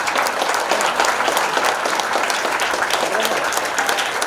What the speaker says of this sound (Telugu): మనం లేచి నిలబడి భక్తిపూర్వకంగా చప్పట్లు కొట్టాలి.